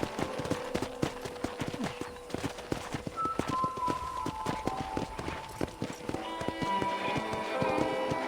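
Horse hooves clip-clopping at a steady walking rhythm on a ranch in Red Dead Redemption, close and clear, with game music tones and occasional ambient sounds behind them.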